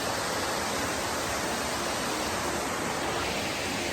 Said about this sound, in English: There's a waterfall right behind me.